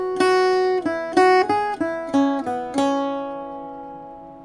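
Irish bouzouki picking a line of a tune, plucked notes in a steady rhythm with ringing doubled strings, close and clear, the last note sustaining and fading alone.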